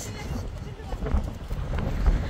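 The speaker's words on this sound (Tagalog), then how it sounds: "Medyo mahangin ngayon." Gusty wind rumbles against the microphone, moderately loud and uneven, with bursts of low buffeting and no clear speech.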